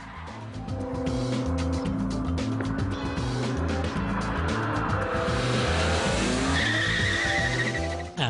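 BMW 3 Series Compact tuned by Hartge, a 3.3-litre car, squealing its tires through rapid direction changes on a slalom course at about 40 mph, with a loud, continuous skidding screech over a steady engine note and no talk.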